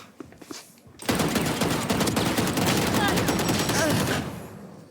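Valorant game gunfire: after a second of faint activity, a dense, rapid burst of automatic fire rattles continuously for about three seconds, then cuts off, leaving a quiet tail.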